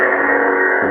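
Custom lightsaber with a Golden Harvest V3 soundboard igniting, a loud, dense electric hum with a distorted buzzing edge. It is steady and close, with no voices.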